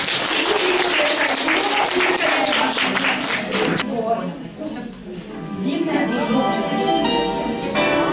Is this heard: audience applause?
yes